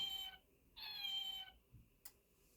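A domestic cat meows close by and softly, giving two drawn-out meows separated by a short pause, then a small click.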